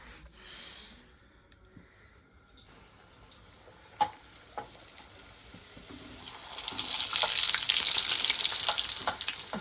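Puris fry in hot oil and get flipped with a metal spatula: a few sharp scraping taps on the pan, then a loud, rising sizzle and bubbling that builds and holds near the end.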